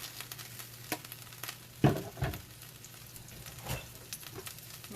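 Hamburger steaks fry in a pan with a steady low sizzle, punctuated by a few louder scrapes and pops as they are moved or turned.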